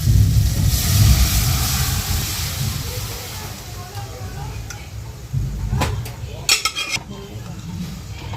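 Spice masala for chana dal sautéing in a pan, a low sizzle under a spoon scraping and stirring, then a few sharp metallic clinks of utensil against pan near the end, while a voice talks over it.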